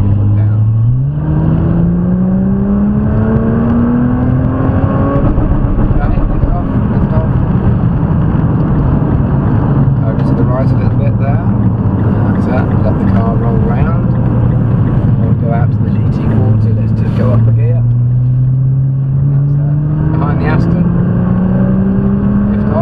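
A car engine on a junior driving experience track revs and accelerates, its pitch climbing, easing, then rising again, loud and close, while an instructor talks over it.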